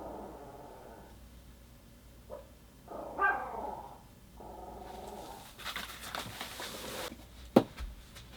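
A puppy barks and yips in a few short, sharp bursts indoors, with quiet gaps between calls and a louder bark near the end.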